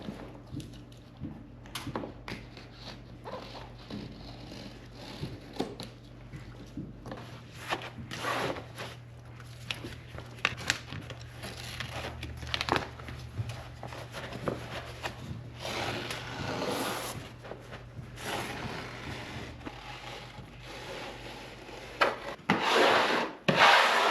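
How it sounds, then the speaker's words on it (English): A utility blade slices excess wallcovering along a plastic edge during a two-story wall installation, giving soft scraping and rubbing strokes with intermittent handling noises, close and fairly quiet. "with my blade, I'm just gonna basically go right along the plastic and cut this"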